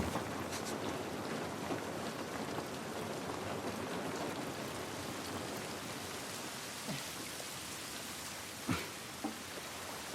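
Steady rain pours down in The Last of Us Part 1, a dense, even hiss filling the whole stretch with a few soft thuds and splashes near the end and no voices.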